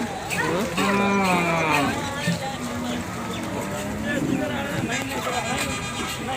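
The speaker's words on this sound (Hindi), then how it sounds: "यहाँ पे भैंसों को नहलाया जा रहा है ताकि उसकी जान ज़्यादा से ज़्यादा लग सके।" Buffaloes at a busy cattle market while being bathed, with loud drawn-out lowing and bellowing calls up close, over steady crowd murmur and background motor noise.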